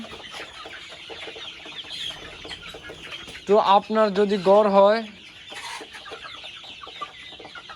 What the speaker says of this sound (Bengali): মিশরীয় পাউমি মুরগি যেটাকে সবাই ডিমের রাজা বলে